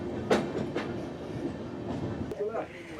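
An Amrit Bharat train rolls slowly into Kashi station with rhythmic clacks and occasional squeals of wheels, moderately loud, with faint crowd noise around it.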